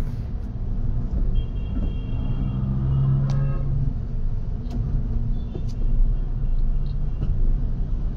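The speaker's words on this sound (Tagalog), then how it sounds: "Maraming traffic." Busy road traffic rumbles steadily as cars pass nearby, a low continuous engine drone with a brief tonal horn toot partway through and scattered faint clicks.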